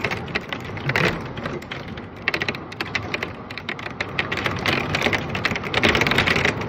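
Steady heavy rain patters and drums on outdoor surfaces in bad weather, a dense continuous crackle of close drops with no voices.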